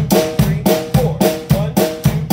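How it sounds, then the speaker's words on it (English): Double-time drum beat with a snare hit after every kick, steady repeating pattern of sharp hits at close range, about four strikes per measure, with no talking. "the snare drums are going to go after every single beat"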